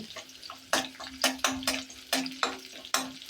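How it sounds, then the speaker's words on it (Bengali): Pumpkin and dried red chilies fry in a pan, a soft sizzle broken by a series of sharp scraping stirs at irregular intervals, close and fairly quiet, with no talk. "কুমড়োটা ভেজে দিব দেখতে পাচ্ছেন শুকনো মরিচটাও ভাজা ভাজা হইতেছে"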